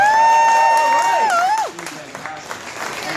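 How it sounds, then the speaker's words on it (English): A loud drawn-out voice with a gliding pitch gives way to a crowd clapping and cheering for a juggling act at a festival, the applause continuing as lighter scattered claps. "A round of applause."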